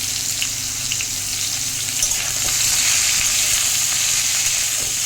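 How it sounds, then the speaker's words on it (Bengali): Tomato added to hot oil in a pan with raw banana and potato, for a light rohu fish curry, sizzles and fries with a steady close crackle and occasional stirring, without any speech. "টমেটো দিয়ে ভাজবো"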